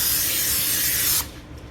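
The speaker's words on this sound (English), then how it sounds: "butter your pan with some butter spray, a little butter spray" Butter spray hisses steadily from a can onto a pan for about a second, a close loud aerosol spray that cuts off abruptly, followed by quiet.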